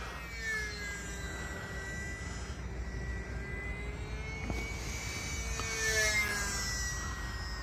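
An E-flite UMX Turbo Timber RC airplane flying, its small electric motor giving a steady whining drone that shifts in pitch as it passes, moderately near and alone without voices.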